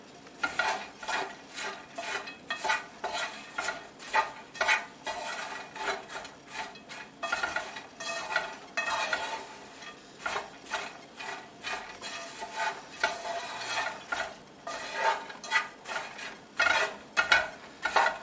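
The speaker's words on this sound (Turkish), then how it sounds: "iyice mısırlar sosunu alana kadar dibinden dibinden karıştırıyoruz" Popcorn coated in sauce is stirred in a pot with a utensil, producing repeated scraping and rattling strokes in an uneven rhythm, close and fairly quiet, with no talking.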